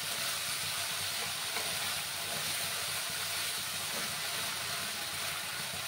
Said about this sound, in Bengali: মশলাটা প্রায় কষেই আসছে